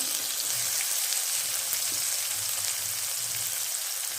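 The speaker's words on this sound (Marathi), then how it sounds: "मिरची भाजून घ्यायची तेलामध्ये छानशी" Crushed green chilies and garlic frying in oil with turmeric, a continuous bright sizzle with faint stirring underneath, close and fairly loud; no voice.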